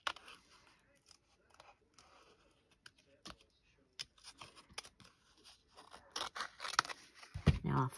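Small scissors fussy cut paper pieces for a handmade card in a quiet room, with soft intermittent snips and paper rustles that grow busier and louder toward the end. A voice speaks faintly at times.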